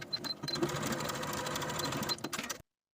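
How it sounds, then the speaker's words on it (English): A sewing machine stitches the shoulder seams of a New Look 6543 top, a close, fast mechanical whirring with rhythmic needle clatter that runs steadily for a couple of seconds and then stops abruptly. "Sew the shoulder seams with a 5/8 inch seam allowance and press your seams open"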